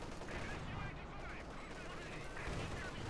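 Rapid machine gun bursts crackle through a dense wash of battle noise in a Company of Heroes 2 Wehrmacht-versus-Soviet match with a T-34 tank nearby, steady and loud for the whole stretch.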